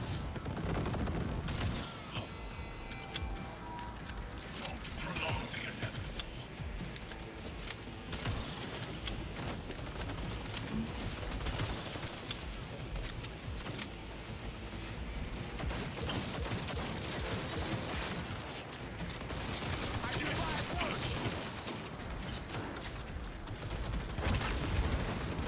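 Sustained automatic gunfire in the video game Cyberpunk 2077, near and loud, with dense bursts of shots and booms running throughout amid busy combat noise.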